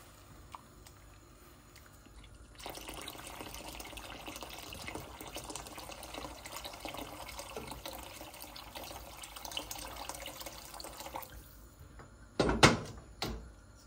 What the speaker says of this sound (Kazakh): Суы аз болса үстіне және де көз мөлшерімен су құямыз.